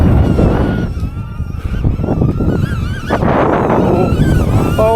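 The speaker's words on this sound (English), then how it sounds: "There's a big gust of wind coming in" A strong, loud gust of wind rushes up from a valley in the Peak District in Derbyshire. It buffets the microphone in continuous roaring surges across the whole span.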